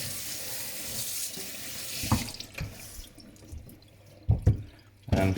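Tap water running into a sink while sharpening-stone equipment is washed, with steady splashing and a few louder bursts of water and clatter near the end.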